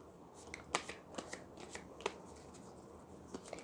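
Romance angel tarot cards being shuffled by hand, a quiet run of soft riffling flutters and crisp card snaps spread unevenly across a few seconds, with no voice.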